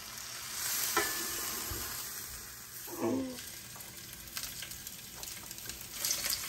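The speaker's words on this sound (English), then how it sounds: "I'll give that a good stir." Stirring Lancashire hot pot in a hot pan, with a continuous bright sizzle and a few scraping, clattering strokes of the spoon, moderately close and fairly quiet, with no talking.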